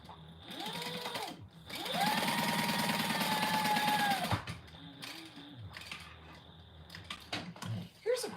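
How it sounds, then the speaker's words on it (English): A sewing machine runs a steady stitching burst across the bottom edge of layered ripstop fabric for a compact clutch, loud and close for about two seconds, then stops and leaves quieter handling noises and brief talk. "stitch across the bottom"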